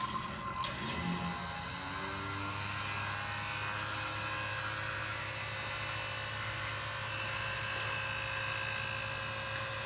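The rotary vacuum pump of an SC7620 mini sputter coater starts with a click and then settles into a steady, moderately quiet mechanical hum and whir that runs unbroken, with no voices.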